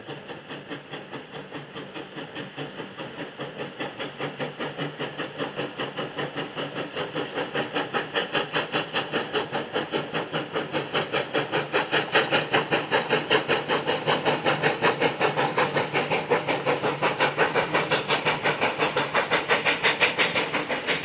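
Train running on a railroad, a steady rhythmic clickety-clack of wheels over rail joints with hissing rumble that grows gradually louder and stays close, no voices.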